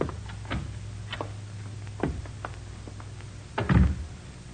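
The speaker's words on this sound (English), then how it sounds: "We go out this door here." A door opening and closing as a sound effect in a 1947 radio detective drama, with a series of clicks and latch ticks followed by a louder closing thump near the end, close and without talk.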